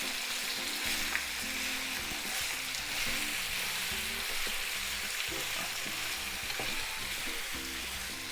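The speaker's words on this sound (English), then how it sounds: "quickly we start stirring" Pork frying and being stirred in a pot, with a steady loud sizzle throughout and occasional scraping and stirring knocks, no voices.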